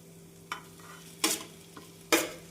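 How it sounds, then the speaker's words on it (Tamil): Masala for a potato dish sautés in a pan under a low steady sizzle, with a few distinct scraping stirs at regular intervals, close and fairly quiet. "மசாலா சேர்த்து 2 நிமிடம் நன்றாக வதக்கிய பின்னர் உருளைக்கிழங்கை சேர்த்து விடலாம்."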